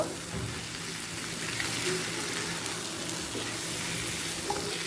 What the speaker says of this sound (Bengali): দিয়ে দিচ্ছি ভেজে রাখা আটা আটাটাও মশলার সাথে ভালো করে কষিয়ে নেব